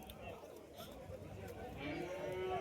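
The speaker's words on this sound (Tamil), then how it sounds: "இது கிடாரி" A Kangayam heifer lowing at a cattle market, a drawn-out moo swelling near the end over a busy crowd murmur and nearby voices.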